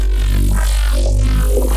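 Gritty remade growl/Reese synth bass patch in FL Studio, space-laces style, built with a vocoder, playing a sustained, wobbling low tone with shifting harmonics for under two seconds, loud and alone.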